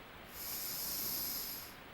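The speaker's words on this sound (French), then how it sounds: "Reniflez." One long, steady nasal sniff during a larynx examination, a breathy hiss lasting over a second, close and fairly soft with no talking.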